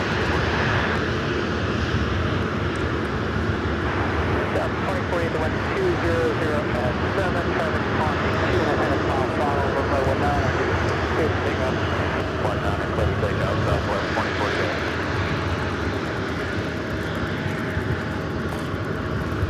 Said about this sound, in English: Southwest 737-700 lining up,